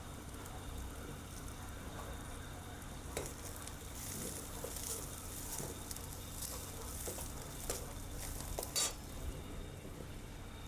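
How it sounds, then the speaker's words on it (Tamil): Mustard seeds, curry leaves, onion and green chilli crackle and sizzle in hot oil for South Indian sambar, a steady frying hiss with occasional stirring clinks and pops, without talking. "கடுகு, கருவேப்பிலை, வெங்காயம், பச்சை மிளகாய் எல்லாம் போட்டு தாளிச்சுக்கணும்."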